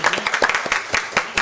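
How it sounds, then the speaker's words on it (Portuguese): Audience at a 2021 school mathematics colloquium claps for a former student, a brief burst of dense, close hand claps that rises and falls over about a second and a half. "palmas para o Hector, por favor"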